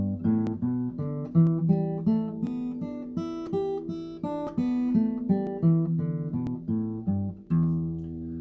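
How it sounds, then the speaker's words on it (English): A basic blues scale picked note by note on an acoustic guitar, each plucked tone ringing out in an even stepping sequence, clear and alone without speech. "So this is the sort of basic version of the blues scale"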